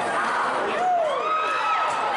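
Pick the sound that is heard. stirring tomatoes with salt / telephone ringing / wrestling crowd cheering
wrestling crowd cheering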